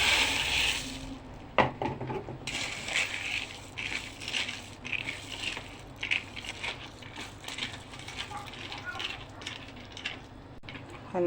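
Pasta tipped into a pan holding potatoes in tomato sauce, giving a busy clatter and rattle with wet sizzling and stirring scrapes that continue steadily, close by.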